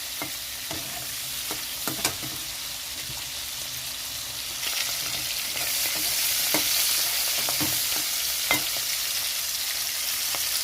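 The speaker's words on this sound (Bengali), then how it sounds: "চিংড়ি মাছটা হালকা ভেজে নেব" Prawns frying lightly in a pan make a continuous close sizzle that grows a little louder midway, broken by scattered clicks and scrapes of a spatula stirring, with no voices.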